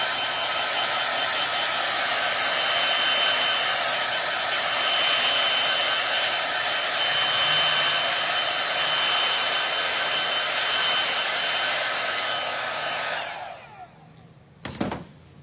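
A hair dryer on its cool setting blows steadily over a freshly finished piece of furniture, a loud continuous whir that holds for about thirteen seconds before cutting off, followed by a brief clatter.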